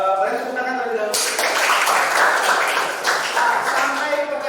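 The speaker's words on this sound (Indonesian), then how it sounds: "Boleh tepuk tangan terlebih dahulu." Classroom of students clapping together on cue at a lesson's close, a dense burst of hand claps starting abruptly and sustained for several seconds, with a voice speaking briefly before it begins.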